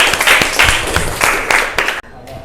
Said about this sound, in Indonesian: Tepuk tangan, woi.